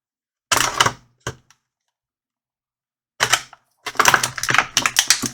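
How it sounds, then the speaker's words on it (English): Sharp clicking and snipping bursts as plastic packaging around a McFarlane Toys Hush Batman figure is cut, coming in short close clusters separated by silent gaps. "I'm just going to cut the plastic here"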